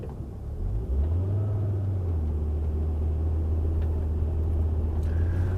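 A car with new front tires pulls away from a dead stop, its engine rising from idle into a steady, moderate rumble that holds at a constant pitch.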